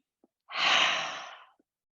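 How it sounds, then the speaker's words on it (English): A single deep breath during restorative yoga: one close, breathy exhale that swells and fades over about a second, with soft faint breath noises before and after in otherwise silent surroundings. "Deep breath in, deep breath out."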